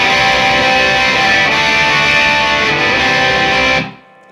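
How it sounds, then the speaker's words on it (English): Electric guitar strummed hard through a distortion channel, a thick sustained wall of saturated chords ringing loudly, then cut off abruptly into silence at the end. "So on an electric guitar, you're playing with distortion a lot, okay? So here's my distortion channel on."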